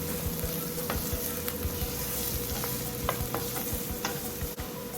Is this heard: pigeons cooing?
no